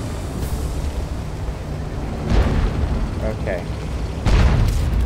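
Artillery shells in World of Tanks land as two heavy booming explosions a couple of seconds apart, each a deep sustained rumble, with a player briefly speaking.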